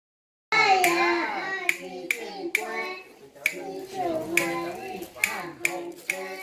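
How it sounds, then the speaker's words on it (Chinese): Sharp, scattered claps break out in a loose rhythm for a child during a parent-child native-language class outing, mixed with children's and adults' voices speaking and chanting throughout. "好，给他鼓掌！"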